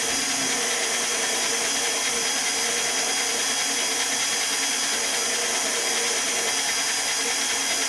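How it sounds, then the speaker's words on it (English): A stand mixer runs steadily, churning bread dough ingredients into flour with an even, unbroken motor whir and buzz throughout. "don't turn your stand mixer on too high, or flour, of course, will go everywhere"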